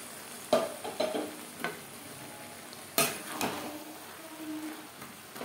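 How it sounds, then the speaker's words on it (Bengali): Cabbage and boiled potatoes are tossed together in a pan, with a few sharp spoon scrapes and knocks over a low steady sizzle, close by, with one stronger scrape midway. "বাঁধাকপির সাথে আলু বেশ ভালো করে মিক্সড করে দেবো"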